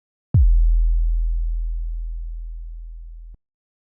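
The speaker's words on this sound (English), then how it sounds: "Once we start driving it into the saturator, we begin to introduce new harmonics, giving our sub a lot more character" A single sustained sub-bass sine tone, distorted and harmonically rich, with a sharp attack and a slowly fading tail over about three seconds, alone.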